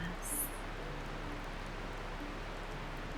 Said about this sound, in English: Rain on glass.